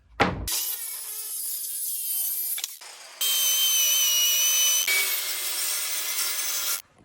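A track saw cuts through a wood panel while building a fitted wardrobe: a loud, close whining cut of about two seconds, a brief pause, then a longer, harsher cutting pass before the blade spins down.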